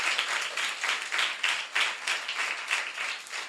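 A congregation at a Telugu Christian prayer meeting claps and applauds together in steady, rhythmic bursts, moderately loud and without speech over it.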